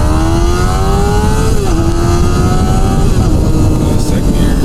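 A 600cc sport motorcycle engine revs hard in first gear, a loud continuous whine that climbs steadily, dips briefly, then holds high, close and unbroken for several seconds.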